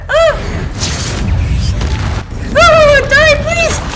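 Incendio fire spell cast in the video game Hogwarts Legacy during a fight with spiders, a loud bursting whoosh with crackling mixed among excited voices and high sweeping game tones.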